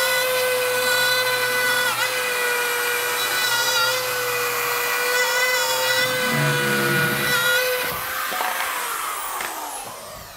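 A power tool whines loudly and steadily as it cuts a hole through drywall, its pitch wavering and dropping near the end as the cut finishes.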